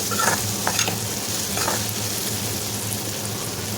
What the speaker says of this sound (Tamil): ஓரளவு இந்த மாதிரி வதங்கினதுக்கப்புறம் உப்பு போட்டு இன்னும் கொஞ்சம் வதக்கி விட்டுருங்க